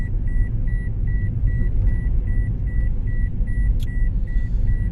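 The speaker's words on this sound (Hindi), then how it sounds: "इसमें आपने गाड़ी को कंट्रोल करके जाना है क्योंकि इसकी डाउनवर्ड स्लोप है" Car driving down a sloping road tunnel on the Chitral motorway with lights on, a loud steady engine and road rumble filling the enclosed space while a faint high electronic beep repeats evenly throughout.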